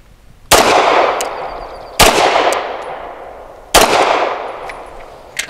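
A BUL Armory EDC pistol fires Hornady Critical Duty 135 grain rounds outdoors. Three loud, sharp shots come spaced well apart, and each leaves a ringing decay behind it.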